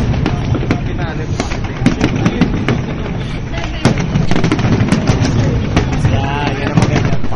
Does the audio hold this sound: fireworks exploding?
yes